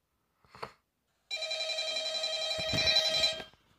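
A telephone rings in a horror video game, one loud continuous electronic ring after a short faint blip, with a brief clatter near the end.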